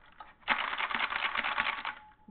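Rapid, loud clacking of a buckling spring mechanical keyboard, a dense stream of keystrokes typed close by for about a second and a half.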